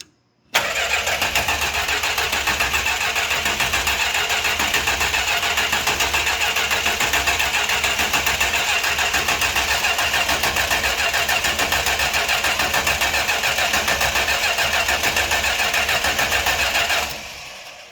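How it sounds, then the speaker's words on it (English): A 1968 Chrysler Newport's engine cranking over steadily and loudly for about sixteen seconds without catching, the starter's even churning running unbroken before cutting off. "I think I'm going to jump inside the car here and crank on it just to make sure we got oil pressure"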